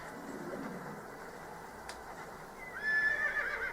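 A horse in the video game Assassin's Creed lets out a rising, shrill whinny near the end, following a stretch of soft ambient noise with faint hoof sounds.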